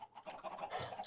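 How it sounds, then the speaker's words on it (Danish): Spawned chickens in a video game cluck in quick, overlapping bursts, several birds together, soft and brief with no talking. "Jo, så spawner jeg bare helt mange kyllinger."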